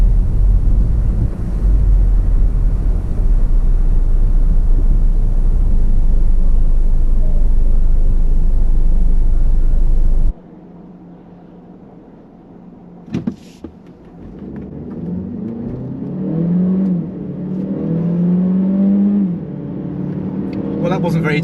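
Alfa Romeo Tonale pulling away hard in dynamic mode at Goodwood, a loud sustained roar of wind and road noise that cuts off abruptly, then a quieter engine rising in pitch under someone talking.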